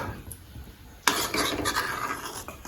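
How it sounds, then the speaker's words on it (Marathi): A turmeric and oil mixture is stirred in a pan, producing soft scraping and clinking of a utensil against metal that turns louder and busier partway through. "आता याला मिक्स हलवून घ्यायचे"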